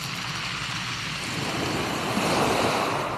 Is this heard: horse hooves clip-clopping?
no